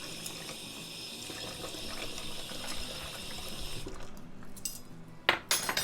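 One tablespoon of water pours into a mixing bowl of coconut cream bath bomb ingredients, giving a short, close splash and trickle near the end after a steady run of water.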